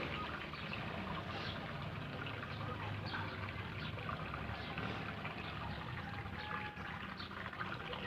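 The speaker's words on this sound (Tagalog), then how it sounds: "malakas ang agos ng tubig" Strong outdoor water flow rushes steadily at a fish enclosure wrapped in netting, a continuous faint wash and trickle with no break.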